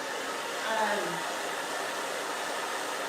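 A hair dryer blows steadily on partly dried hair during a haircut, its broadband rush constant and close throughout, with a faint tonal whine near the start.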